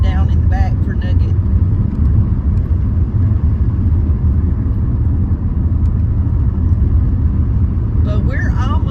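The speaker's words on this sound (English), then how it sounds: "Y'all may be hearing the wind. I got the windows down in the back for Nugget." Wind roars through a car's open rear windows while driving, a loud, steady low rumble and buffeting, with brief voice fragments at the start and end.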